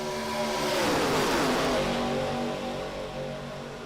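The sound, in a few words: race car engines at Talladega in a racing video game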